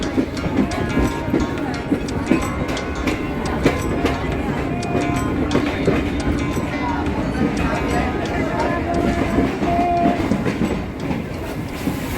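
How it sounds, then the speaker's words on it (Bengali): A MEMU passenger train pulls out of Patna Sahib station bound for Deoghar. Its rumble and clattering wheels are loud and close and keep going throughout, while a voice talks over them. "এই হচ্ছে আমার সেই ট্রেন যেটা এখন দেওঘরের দিকে যাচ্ছে"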